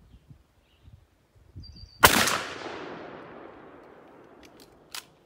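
One loud, close blast from a Mossberg 835 shotgun firing buckshot at an outdoor range, trailing off in a long echoing decay, followed by a faint click and a short sharp knock.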